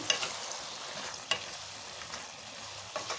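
A spoon stirs tomato egg curry in a pan after salt goes in; faint sizzling and a few soft scraping clacks come through at low level, with no voices.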